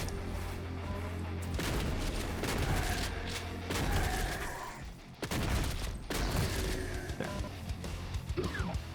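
Heavy, dense gunfire and explosive blasts from the video game Doom: The Dark Ages, loud and nearly continuous, with brief breaks between rapid volleys.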